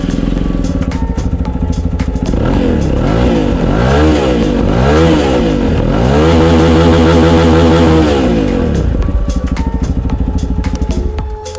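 Chinese-made 200cc single-cylinder motorcycle with a Zongshen engine, loud and close, idling with a clattery thump then revving up and down several times in rising and falling sweeps before settling back to idle.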